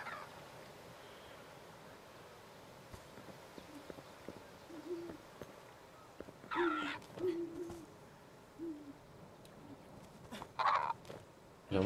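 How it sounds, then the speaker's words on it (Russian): Birds calling nearby in the video game Creatures of Ava, short hooting, cawing calls in scattered clusters over a low ambient background, faint to moderate, with a louder call near the end. "Прямо рядом кто-то каркает или что-то за звуки издают."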